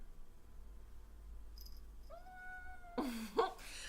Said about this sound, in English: one of my cats. Hi, Boo. She's very needy.